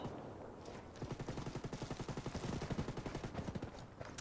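Enemy gunfire in Ghost Recon Wildlands: a long, steady stream of rapid automatic shots at moderate distance, fairly faint and continuous for several seconds.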